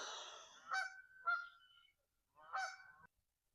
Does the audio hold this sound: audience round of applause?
no